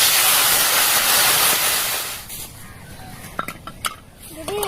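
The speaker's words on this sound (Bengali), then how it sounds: "কিছুক্ষণ নাড়ার পর এর মধ্যে জল দিয়ে দিলাম।" Water hitting a hot pan of mustard-paste fish curry gives a loud, rushing hiss that dies down after about two seconds, followed by a few clinks of a utensil against the pan.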